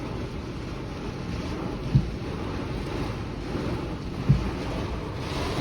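Strong wind gusts during a violent thunderstorm in Indre-et-Loire, roaring as steady, buffeting noise with two dull thumps, no voices.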